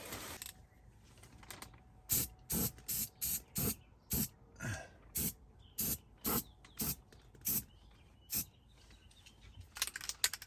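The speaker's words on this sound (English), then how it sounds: "I'm going to come up in here and spray paint some more paint" Short, sharp hissing bursts of spray paint repeat in a steady rhythm, about a dozen quick sprays from an aerosol can onto van metal, close by over a quiet background.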